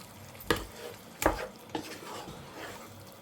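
Yogurt is stirred into marinated chicken for Hyderabadi dum biryani, with three distinct scraping spoon strokes against the pot and soft wet squelching between them, close and without talk.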